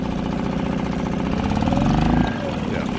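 A Suzuki DF2.5 outboard motor mounted on an Intex Seahawk 3 inflatable boat runs with a steady buzzing drone that rises briefly as the throttle opens, then settles, while someone talks over it.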